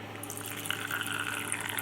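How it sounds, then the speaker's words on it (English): Water pours steadily from a watering container into a pet's water bowl, a continuous close splashing trickle that runs unbroken for the whole stretch. "take my watering container and fill up the water bowl"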